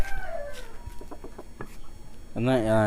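Voices chatter over a busy outdoor crowd, then a loud, close call from a roughly four-kilogram fighting rooster, with stacked harmonics, rings out near the end.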